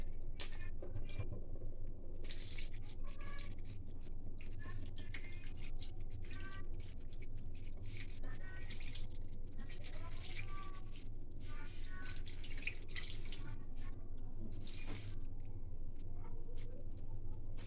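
Water poured into a Bengali fish curry (macher jhol) mixture of rohu, running and dripping steadily with splashy trickles, close by over a low kitchen hum.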